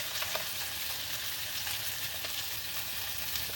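Tenderized meat fries in a hot pan of bacon grease inside a truck camper, making a steady, close sizzle with faint crackles and no talking.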